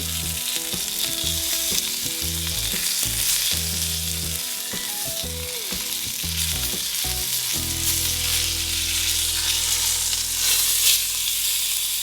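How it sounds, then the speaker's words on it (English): Fish frying in a pan, a steady dense sizzle throughout with occasional stirring or shifting noises in the first half, close and continuous with no talking. "Alright, so it's nice golden brown, and we're gonna let it continue cooking on the other side for a few minutes"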